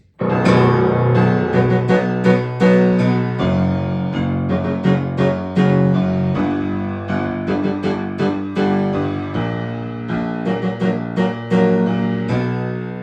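A solo piano plays a sustained, ringing passage from an arrangement of an Attack on Titan piece, chords and notes blending as the pedal holds them, steady and fairly loud.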